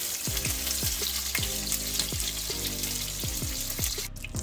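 Sausage and peppers sizzle and fry in a pot while browning, a steady close crackle of hot fat. Repeated scraping stirs with a utensil sound at an uneven rhythm.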